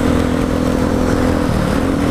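Motorcycle engine running steadily while riding in heavy rain, a constant loud drone with broadband road and rain noise throughout, no talking.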